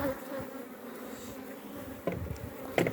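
Honeybees buzz around a hive frame at close range in a continuous, dense drone, with a few louder passes as individual bees fly near, and nobody speaks.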